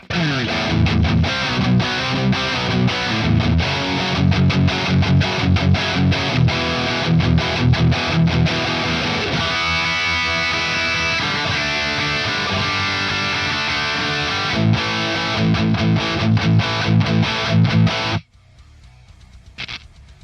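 A gritty electric guitar through a mild overdrive pedal plays chunky rhythmic chords and riffs for a long stretch, then cuts off abruptly, leaving faint hum.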